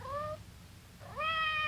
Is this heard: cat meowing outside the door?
yes